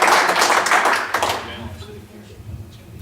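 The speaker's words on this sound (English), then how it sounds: "I want to ask you all to give a round of applause for our candidates." Audience clapping for political candidates at a Republican primary event, a burst of applause in the first second and a half that fades out, leaving a quieter room with speech beneath.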